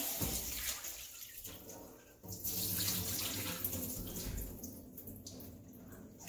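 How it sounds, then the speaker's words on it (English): Chicken feet are rinsed gently under a running kitchen tap into a sink, a steady close splash of flowing water that briefly dips in force before picking up again, with no talk. "Careful, try to not break the skin from the, because otherwise you're gonna have small pieces. Just gentle rinsing."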